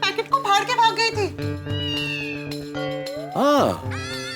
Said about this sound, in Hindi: लगता है ये वही बिल्ली है जो कुछ दिन पहले मेरे घर के बाहर रखे दूध के पैकेट को फाड़ के भाग गई थी